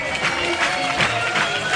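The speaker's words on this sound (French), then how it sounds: "Un tonnerre d'applaudissements" Crowd applauding and cheering at a theme park high-dive show, a dense, continuous wash of clapping and voices that stays loud throughout a short burst.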